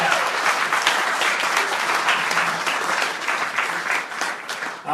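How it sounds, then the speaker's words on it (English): Sustained applause from a sizeable crowd at a Martin O'Malley political rally, dense clapping at a steady level that tapers slightly toward the end. "Big round of applause for running through that."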